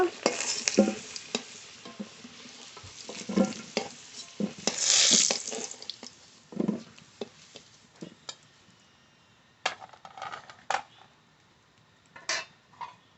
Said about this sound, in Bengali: আলু খুব ভালো করে ভেজে নিয়েছি নামিয়ে নেব